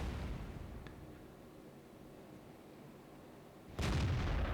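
Artillery fire in the tank battle game World of Tanks: a low rumbling boom, then a sudden loud blast near the end that keeps roaring, with no speech over it.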